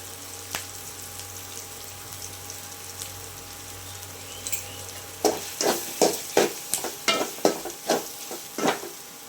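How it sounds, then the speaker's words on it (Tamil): Lentil dumpling mixture being stirred in a pan over low heat, a soft scraping hiss that turns into a run of distinct, evenly spaced spoon strokes in the second half, with no talking. "இப்படி லைட்டாக கிளறும் போது அதில் உள்ள ஈரப்பசையெல்லாம் போயிடும்."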